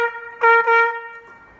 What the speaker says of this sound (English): That's the sound of a piccolo trumpet.